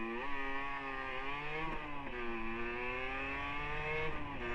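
A collector's Derbi GPR motorcycle accelerates hard, its engine note rising steadily through the revs with brief dips at each gear change. It is loud and close throughout.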